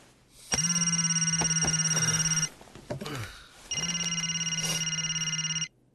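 A telephone rings in two long electronic bursts with a short gap of scuffling between them, loud and close, with no voices over it.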